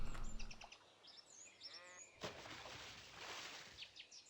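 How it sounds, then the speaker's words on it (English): Bird calls in the video game UnReal World: a few chirps and a short trilling call, followed by a sharp thump and a wash of broadband outdoor noise, with no talk. "We can still hear that bird."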